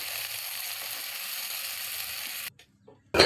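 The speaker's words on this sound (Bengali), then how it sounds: "এবার গরম তেলের মধ্যে মাছগুলোকে ছেড়ে দিলাম। এটা আমার সরষের তেল নয়, আমি পাম তেল দিয়ে এই মাছগুলোকে ভেজে নিচ্ছি।" Small chuna fish frying in hot palm oil: a steady loud hissing sizzle that runs evenly, then cuts off abruptly before a brief burst returns at the end.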